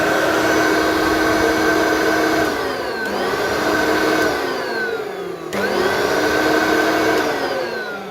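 An old vacuum cleaner salvaged from the tip runs loud and steady with a whining motor hum, its pitch dipping and sliding twice as the motor bounces in, heard close with no talking.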